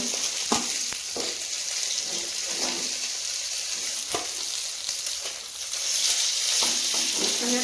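Fish fry in hot oil in a home kitchen, a loud continuous sizzle broken by sharp utensil scrapes and taps as the pieces are turned and lifted.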